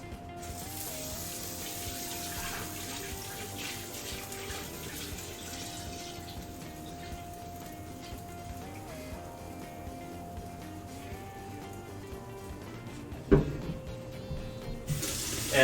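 A kitchen tap runs steadily while a pot of chicken stock is being topped off, the water flowing in a continuous soft rush with low background hum, ending with a clatter near the end.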